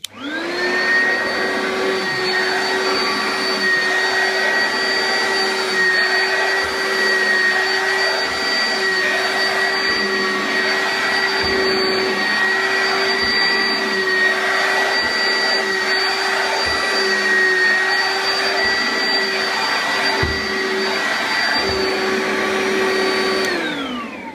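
An Oreck upright vacuum cleaner roars steadily at close range on stairs for a long stretch, its motor whine holding constant with faint rhythmic bumps as it moves.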